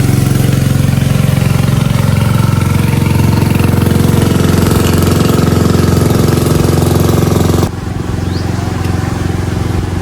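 Motorboat engines putter steadily and loudly as boats head out to sea from a fishpond area, a continuous low drone that drops in level near the end.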